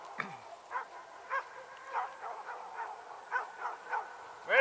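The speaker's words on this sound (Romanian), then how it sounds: "La mine lătrați!" A dog yelps and barks repeatedly in a snowy mountain setting in Retezat National Park in winter, short, fairly close and moderately loud calls in an uneven rhythm, with a higher whimpering yip at the start and the end.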